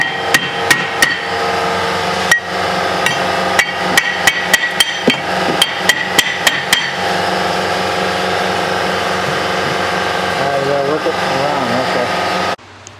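Hammer blows ringing out against the rear brake rotor of a 2011 Cadillac CTS, about a dozen sharp, loud metallic strikes in irregular bursts over the first seven seconds, then a steady engine-like hum with a voice.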